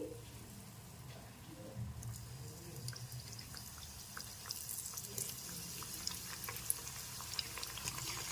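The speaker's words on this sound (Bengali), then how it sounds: "এখন এটা তেল ঝরতে দিয়ে বাকি গুজিয়াগুলোকে ভেজে নিচ্ছি" Gujiya, filled sweet dumplings, fry in hot oil with a soft, continuous sizzle and scattered crackling pops that grow busier over about eight seconds. The sound is fairly quiet, with no talking.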